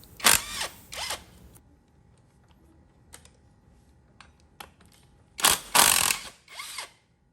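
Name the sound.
impact wrench removing a motorcycle disc brake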